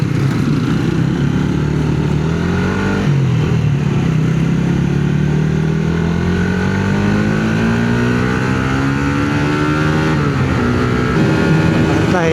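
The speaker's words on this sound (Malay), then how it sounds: "lori banyak lalu." Lorries pass on a federal highway near Shah Alam at night. Heavy engine drone and tyre roar are loud and steady throughout, with engine pitch rising and falling as big vehicles go by close.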